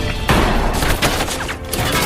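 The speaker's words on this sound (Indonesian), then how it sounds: "Adegan baku tembak pun tak terhindarkan." A movie shootout fires off as bursts of gunfire, loud sharp cracks and booms stacked in rapid succession over a dense, noisy soundtrack.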